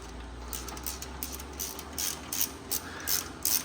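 A ratchet clicks in short bursts while snugging a bolt during a Power Latch installation, close and crisp with brief pauses between strokes.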